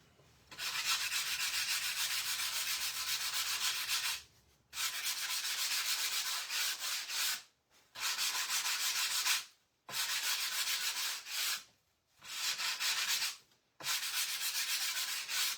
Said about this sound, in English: Flip it over and sand this side a little bit.